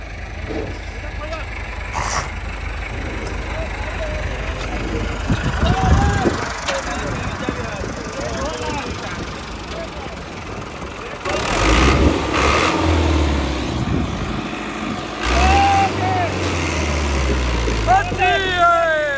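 A Dabang NH85 tractor engine runs in high gear during a tractor pulling contest, a steady mid-pitched rumble with louder surges later, while someone talks over it.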